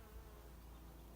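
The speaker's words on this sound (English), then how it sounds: "lots of borage flowers that the bees are loving. The bees are all busy amongst the flowers there." Bees buzz among borage flowers in a garden, a steady, faint hum with no voices over it.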